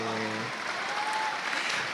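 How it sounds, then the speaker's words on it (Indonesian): Applause from the studio audience of an Indonesian talk show, a dense continuous wash of clapping that swells slightly, with a brief voice at the start. "Kita kasih tepuk tangan yang lebih meriah lagi teman-teman semua."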